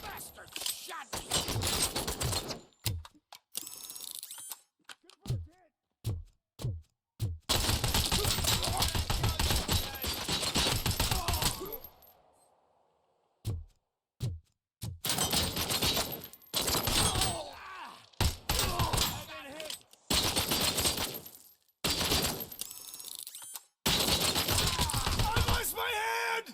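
Bursts of gunfire in the shooter RoboCop Rogue City crack out in rapid clusters and single sharp shots, separated by brief silences, with speech mixed in among the volleys.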